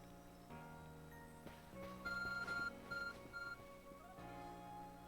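An Arc Phone in Pokémon Legends: Arceus gives a short series of bright electronic beeps in a quick rhythm over soft game background music.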